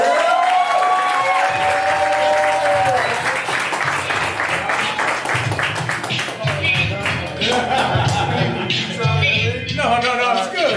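A round of applause at a chapter mastermind meeting, sustained loud clapping and cheering from a crowd with energetic voices shouting throughout, close and full.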